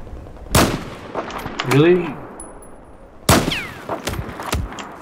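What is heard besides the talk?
sniper rifle shots in Battlefield video game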